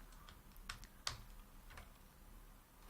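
A few sharp clicks of computer keyboard shortcut keys being pressed, faint and sparse over quiet room noise, with no talk.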